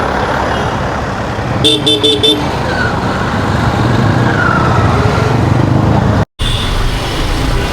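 A city street jammed with heavy traffic hums with a dense, continuous engine rumble, broken by a short burst of several closely spaced horn toots and a brief dropout near the end.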